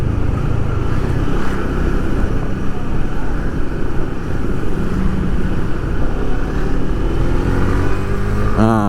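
A Honda CB150X motorcycle overtaking, its engine holding a steady, loud, close roar without pause from start to finish.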